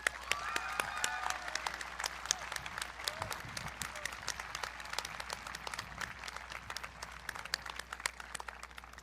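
Dense, sustained applause from a large audience at a school graduation ceremony, with many hands clapping evenly throughout and a faint voice underneath.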